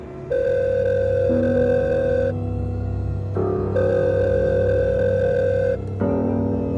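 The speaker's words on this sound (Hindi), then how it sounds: "कि पॉकेट में रखा उसका फ़ोन बज उठा।" A phone rings in a steady repeating electronic tone pattern, bursts of about two to three seconds with short gaps, loud and close, no voices.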